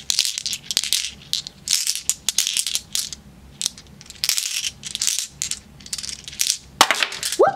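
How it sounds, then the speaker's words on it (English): Crystal pebbles and palmstones, including labradorite, clatter and clack together in repeated handfuls, bright, close clicking bursts with brief pauses between, ending with a sharper scrape. "I love the sound of crystals."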